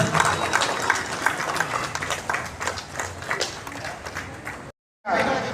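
A crowd claps loudly and steadily at a rally for Adivasi rights, the applause dense and sustained for several seconds before a brief cut and a final burst.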